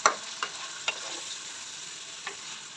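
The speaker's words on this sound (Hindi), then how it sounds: "थोड़ी देर तक इसको भूनेंगे ताकि वो थोड़ा सा ना अपना कलर चेंज कर ले ऑयल के बीच में और ऑनियन के साथ" Mutton browns in oil with onions for Kashmiri yakhni, a soft continuous sizzle broken by a few sharp utensil scrapes and taps, close by with no voices.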